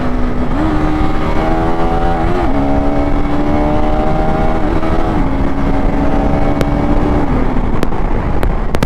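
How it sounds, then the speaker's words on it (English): A 2025 KTM 390 Adventure motorcycle on the road, with a loud, close, continuous engine drone and wind roar. The engine pitch steps through several quick gear changes made with the quickshifter. "I will shift the gears down."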